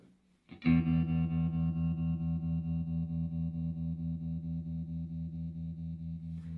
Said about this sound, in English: And we can turn on the vibrato.